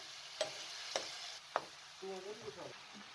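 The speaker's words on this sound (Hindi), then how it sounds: "चिली सॉस और 2 टेबलस्पून सोया सॉस भी शामिल कर दें। अच्छे तरीके से चम्मच चला लें।" A spoon stirs chicken with chili sauce and soy sauce in a pan, giving a few sharp clinks against the metal and then a soft, wet sizzling scrape. The sounds are close, with low background hiss and no talking.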